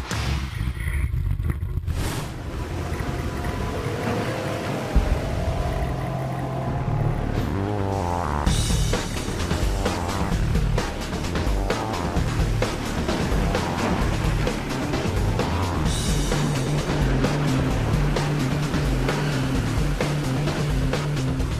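The Maverick roller coaster runs on a test ride, a loud, continuous rumble with rattling wheels and clattering track noise that swells and shifts as the train races along, with no voices.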